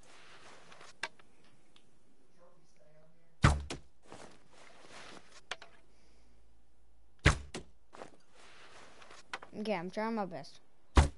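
Arrows from a recurve bow strike a target at close range, each landing as a sharp, heavy thunk, with two or three solid hits spaced a few seconds apart and someone talking briefly between shots.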